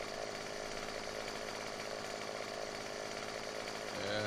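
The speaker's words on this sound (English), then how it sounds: "That's why I bought a chainsaw." Chainsaw in the video game Farming Simulator 15 cutting down a tree, a loud, constant buzzing engine whine held steady throughout before a brief change in pitch at the very end.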